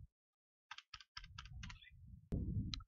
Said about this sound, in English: by hitting the keyboard shortcut of Shift 5 times